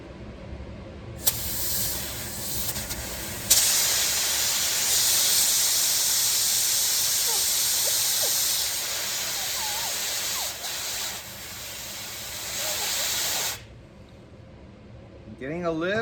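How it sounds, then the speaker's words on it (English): Compressed air from a pumped-up air compressor blows gently through a vintage barn-find pressure washer as a steady close hiss that swells, holds for about ten seconds, then tapers and stops. "I've got my air compressor pumped up. I'm not gonna go full bore on it,"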